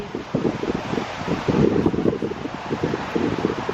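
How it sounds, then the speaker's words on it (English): Steady wind blows outdoors in nature, buffeting the microphone with a constant, fairly loud rumbling roar and no talk over it. "Hope you can hear me with the wind"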